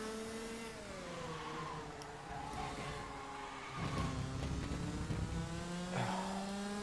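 A kart engine revs hard while drifting in rFactor's KartSim night race at Paul Fletcher International, its buzzing pitch wavering up and down, then swelling louder and rougher near the end.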